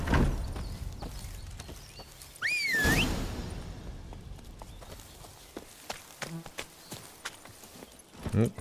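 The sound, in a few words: horse hooves in video game The Witcher 3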